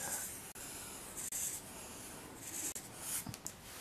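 A pen or marker scratches steadily across paper or a board while a simple wave diagram is drawn by hand, a continuous close rubbing broken by a few short lifts of the tip.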